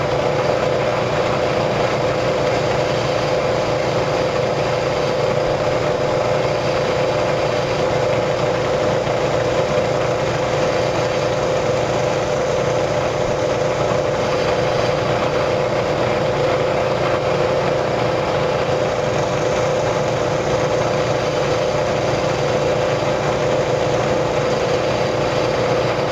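A milling machine running steadily at 1,000 RPM while cutting black ABS plastic, giving a continuous, loud mechanical drone with an even tone and no pauses or voices.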